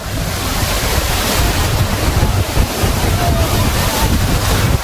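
Sea waves at Digha beach roll in as a steady, loud roar of surf, with wind gusting across the microphone throughout.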